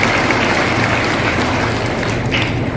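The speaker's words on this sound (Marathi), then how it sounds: "अरे टाळ्या वाजवा ना तुमच्यासाठी बोलते" Audience at a Women's Day event applauding, a dense continuous wash of clapping from a large crowd filling the hall, loud and steady.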